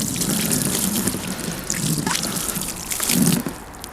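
Water poured onto a protective phone case lying on its side, a steady splashing trickle with dripping and a fuller gush near the end, close by with no talking.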